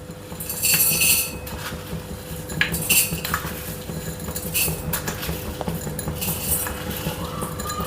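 A metal spoon clinks and scrapes against a container while scooping out spice powder for homemade pav bhaji masala, giving several short, fairly close metallic taps and rattles over a low steady hum, with no talk.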